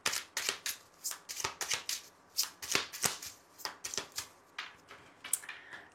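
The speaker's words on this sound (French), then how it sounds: "on va faire un tirage en 9 cartes pour voir ce qu'il vous dit" Lenormand cards being shuffled for a nine-card reading: repeated quick riffling bursts, close and crisp, in an irregular rhythm with short gaps, and no talking.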